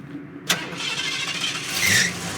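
A Subaru-swapped VW Beetle engine cranks and catches with a sharp burst, then settles into a steady, loud running rumble close by, swelling slightly toward the end.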